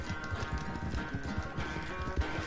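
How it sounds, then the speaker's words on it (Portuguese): Horse hooves clop in a steady, quick rhythm in the Red Dead Redemption video game, with dull, close thuds repeating over a low background of game ambience. "Acalmar o cavalo pra recuperar um pouco da estamina."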